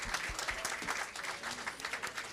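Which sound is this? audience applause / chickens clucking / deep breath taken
audience applause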